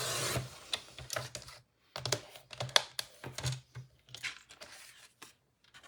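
Paper being cut to size on a trimmer during a craft session, heard as a series of short crisp slicing and sliding strokes with brief pauses between them, close by and moderately loud.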